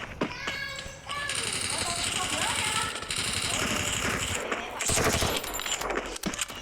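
Rapid bursts of video game gunfire rattle in the distance, fairly faint and mixed with voices talking over it.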